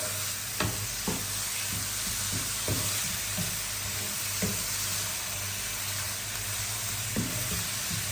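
Mushrooms stirred into a sizzling pan of frying filling with garlic, a steady close hiss broken by several soft scraping knocks of the spoon.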